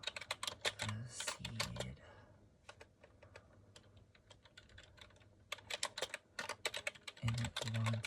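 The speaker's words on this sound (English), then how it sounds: "I'll type up a little dissertation." Keyboard typing in a soft-spoken ASMR setting: close, crisp clusters of rapid key clicks in bursts, pausing midway and then resuming, with brief murmured speech over a few of the clicks.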